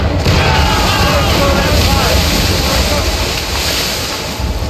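Ship cannon fire in Assassin's Creed Rogue during a naval battle, a heavy boom over loud rolling waves and wind that persists for several seconds.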